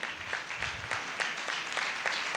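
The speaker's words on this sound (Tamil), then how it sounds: "கைத்தட்டுங்க பார்க்கலாம்." A church congregation at a Christmas service claps together in a quick, rhythmic beat, a moderately loud crowd of hands keeping steady time.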